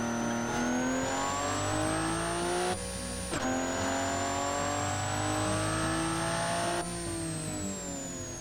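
A vintage hillclimb car's engine in the car-design game Automation revs steadily, pitch climbing smoothly, dropping abruptly as if shifting gear, then climbing again, loud and continuous with no talking.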